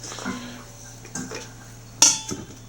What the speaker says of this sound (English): scrape it out of the bowl, mixing bowl, I should say